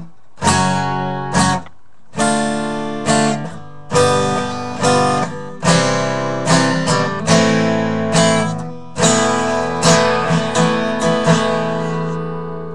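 An acoustic guitar strumming a chord progression, clear and close, with a steady sequence of ringing chords, each struck and left to sustain before the next change, no voice.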